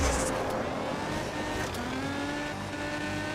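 A Ferrari SF90 Stradale races in Asphalt Legends, its engine a steady, droning whine with a rising pitch, fairly close and continuous, with a brief screech at the start.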